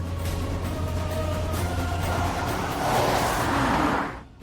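A car drives along with a steady engine rumble and road noise that swells briefly before fading out at the end, with no talk.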